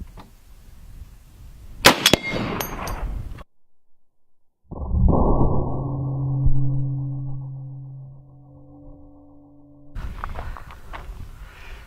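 .50 caliber armor-piercing incendiary tracer rounds from a heavy sniper rifle strike a stainless steel plate, giving a sharp, loud burst of impacts followed by a sudden silence and then a sustained ringing hum.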